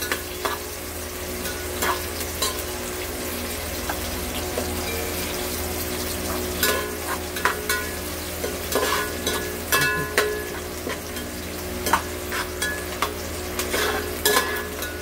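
Onion and whole garam masala spices sizzle in a pan for veg pulao. A steady frying hiss is broken by repeated scraping stirs that grow more frequent in the second half.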